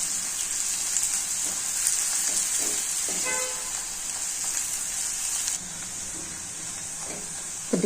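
Thinly sliced onions fry in hot oil, a loud continuous sizzle with small spatula scrapes, the hiss easing slightly near the end.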